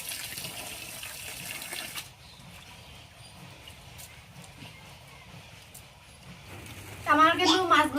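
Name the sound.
washing cut fish under running water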